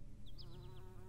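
Bees buzz in a steady, low droning hum, close and continuous, with a few faint high chirps over it.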